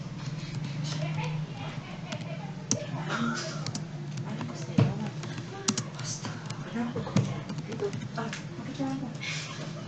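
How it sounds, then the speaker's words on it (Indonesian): Someone types a report on a computer keyboard, a steady run of close, crisp key clicks with occasional louder taps, with a voice speaking over the typing. "kita ketik laporan data dosen"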